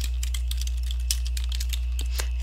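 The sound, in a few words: typing on a computer keyboard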